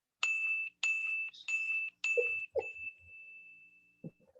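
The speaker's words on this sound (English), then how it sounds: "I can't find the goddamn bell." A small handheld bell rings in a quick series of bright dings, about five strikes with a long ringing tail at the end, close and clear, with a brief low thump near the finish.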